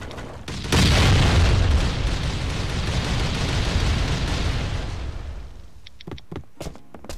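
A video-game barrel bomb explosion in Last Island of Survival: a loud, sustained explosive roar erupts and rumbles for several seconds, then fades into a few sharp pops and bangs.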